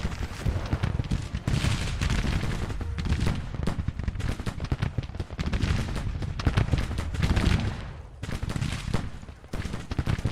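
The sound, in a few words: infantry musket volley fire in Grand Tactician video game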